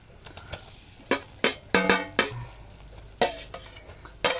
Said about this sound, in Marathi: आणि ढवळत राहायचं, नाही तर ते खाली लागू शकतं.